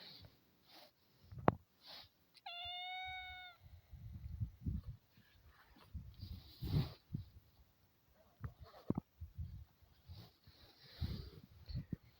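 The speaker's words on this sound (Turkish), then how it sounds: "Bakayım ne kadar güzel bir kedisin sen ya" A cat at a lakeside fishing spot gives a single short meow, with scattered close bumps and handling noises throughout.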